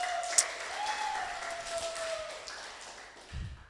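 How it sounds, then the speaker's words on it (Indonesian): Audience at a stand-up comedy night in Serang, Banten breaking into applause, a moderate wash of clapping hands with a sharp tap near the start, tapering off before a low thump at the end. "Tepuk tangan dulu dong"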